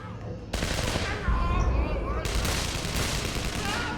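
Gunfire in The Amazing Spider-Man video game, loud bursts of rapid shots and booming impacts that cut in abruptly, layered with other game sound and a voice partly beneath.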